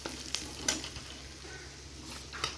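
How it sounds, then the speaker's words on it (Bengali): Turmeric, dried chili and cumin powder fry in a pan while being stirred, giving a quiet sizzle with a few scraping clicks of the spoon against the pan. "হলুদ, শুকনো লঙ্কা আর জিরে গুঁড়োটা দিয়ে একটু নেড়ে চেড়ে নেব"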